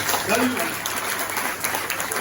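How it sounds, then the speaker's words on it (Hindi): Brief burst of audience clapping at a Hindi-language business gathering, loud and dense throughout, with voices mixed in beneath. "जोरदार ताली आपके लिए, बहुत बढ़िया।"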